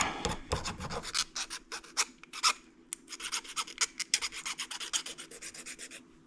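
A brake line on a 1969 Charger is deburred and chamfered by hand, giving quick rhythmic rasping and scraping strokes, close and fairly quiet, with short pauses between bursts.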